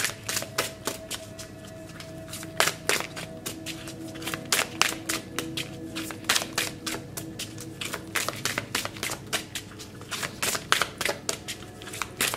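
Cards are shuffled and drawn for a card reading, giving quick flicking riffles and soft snapping taps in irregular bursts, close and fairly quiet, with no voice.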